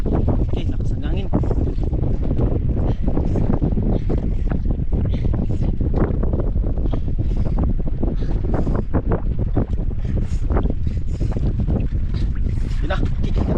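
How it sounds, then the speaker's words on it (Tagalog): Strong wind buffets the microphone aboard a fishing boat at sea, a constant loud roar with gusty rumble throughout, while people talk over it. "Okay, lakas ang hangin."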